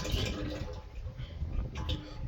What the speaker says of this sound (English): pour in your hydraulic oil, put the spout on the top so it doesn't spit back at you often